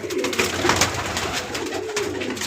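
Pigeons, male and female birds kept together, coo in repeated low, throaty calls close by and fairly loud, with chirpy bird sounds mixed in and no talking.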